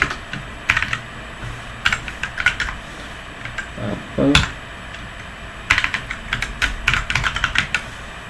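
Fingers typing Python code on a computer keyboard, quick clusters of close, crisp key clicks with short pauses between bursts.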